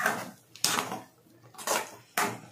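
Rava kichadi stirred in a pot, four distinct scraping strokes of a spoon against the metal in an uneven rhythm, close and fairly loud, no speech.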